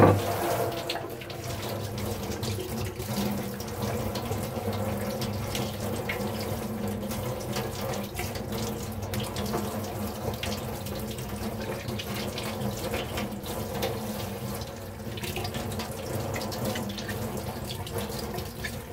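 Young ginger rinsed under a running kitchen tap, steady water rushing into the sink with a continuous splashing wash throughout, close and fairly loud with no talking.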